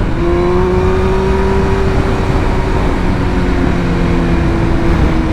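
A 2023 BMW M1000R sport motorcycle engine under steady throttle while riding, a loud continuous high-pitched drone with wind rush and no voices.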